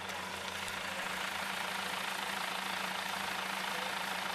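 A farm tractor's engine idles early in the morning, a steady low rumble with a constant hum that holds even throughout.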